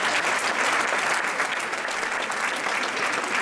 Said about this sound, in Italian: Un applauso lo merita.